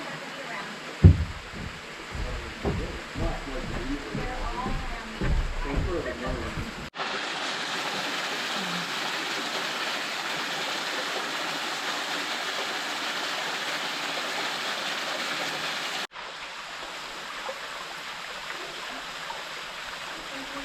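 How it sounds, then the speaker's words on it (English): A waterfall near a roof-covered bridge in the Catskills, New York, gives a steady broadband rush heard in the distance, at first under a speaking voice and then alone and louder for several seconds. "you can hear the waterfall in the background"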